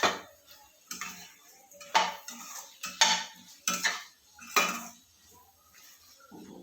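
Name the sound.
stirring drumstick curry with peanut masala in a pan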